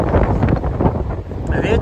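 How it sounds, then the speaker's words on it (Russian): Strong wind on a mountain buffets the microphone in a loud, continuous roar with gusty rumbling throughout. "Ветер сильный. Просто сносит."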